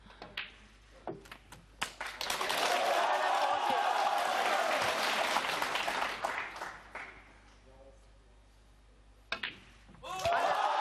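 Snooker crowd breaking into sustained applause and cheering after Ronnie O'Sullivan's 147 maximum break, loud and dense for several seconds before fading, with a few cue-ball clicks around it.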